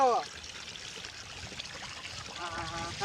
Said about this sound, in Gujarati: જાહેર ઢાળિયા પાણી ખેતરમાં પહોંચી ગયું